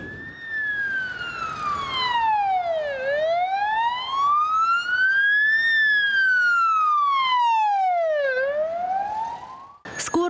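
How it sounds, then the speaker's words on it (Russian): An ambulance siren wailing in slow rising and falling sweeps, loud and close, continuing steadily on its own without talk, with a brief clatter at the very end. "Однако порой сигналы скорой игнорируются."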